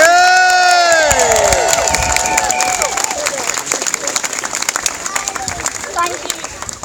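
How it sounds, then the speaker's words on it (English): A crowd at a Bristol NHS march rally applauds and cheers, opening with loud whoops and shouting voices that give way to thinner, scattered clapping as the noise fades. "Please give her a massive round of applause."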